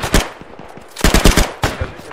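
Machine gun fire from the WWII shooter ArmA 3 Iron Front rattles in loud, close bursts of rapid shots, three clusters separated by short pauses.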